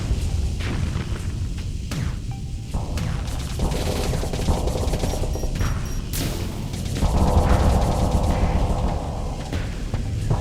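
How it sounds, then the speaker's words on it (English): Hurricane launcher weapon firing in the Starsector space combat game, a dense barrage of booms, blasts and crashing impacts layered over a constant loud rumbling din. "There goes the hurricane launcher."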